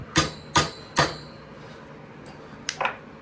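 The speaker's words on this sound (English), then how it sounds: "now you can just hit it with hammer" Three sharp, loud hammer strikes land in quick succession on an evaporator part while a Viking beverage center is being repaired, with a pair of lighter metallic taps following.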